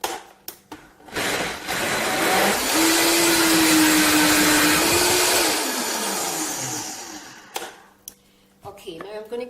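A blender gives a short blast on a raw vegan wild orange chocolate mousse, with a loud whirring roar rising and holding for several seconds before cutting off, and brief talk before and after.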